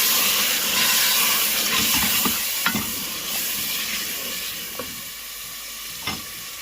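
Tomato masala for chicken biryani sizzles steadily in hot oil in a pan, with a few sharp spoon scrapes and stirring knocks breaking through the continuous frying hiss.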